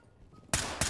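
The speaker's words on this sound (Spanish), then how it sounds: "qué primer disparo más malo" A single loud, close gunshot bursts out in the SWAT shooter game Ready Or Not, followed by a second sharp crack right after it, over a quiet background.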